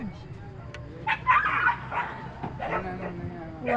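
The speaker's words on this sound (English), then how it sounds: "Dogs are attacking each other." A small dog skirmish on Nusa Penida, Bali: scattered barks, yelps and whimpers break out in short bursts over a steady hubbub of voices and outdoor noise.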